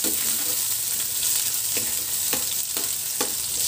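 Onions sizzling steadily in a hot pan while squid adobo is cooked, with a constant close hiss and a few sharp stirring clicks and scrapes spaced through it.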